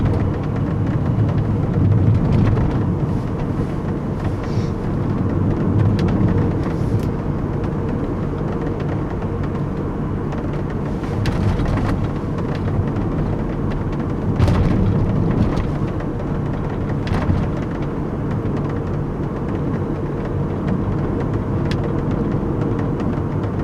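A steady engine drone from a 1998 Mercedes-Benz SLK230 with road and wind rumble heard from inside while driving with windows down, continuous and fairly loud throughout with no talking.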